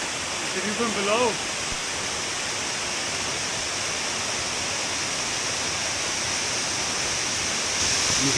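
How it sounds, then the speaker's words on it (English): Powerful waterfall in a canyon in central Chiapas, Mexico, roaring as a constant dense rush of water, with a brief voice near the start and another at the end. "the waterfall is like, well, it's very strong"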